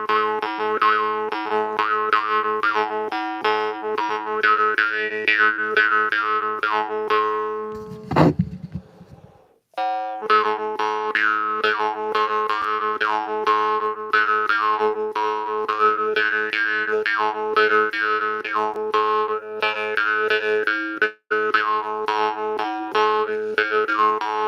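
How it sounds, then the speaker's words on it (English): A Nepalese marchunga jaw harp twangs with a dry, buzzing drone and wavering overtones, played continuously up close, with one brief pause partway through. "This is a Nepalese marchunga."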